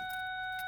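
Keys jingle near the ignition of a tractor, a brief bright metallic rattle over a steady electronic chime tone, close and clear with no talking.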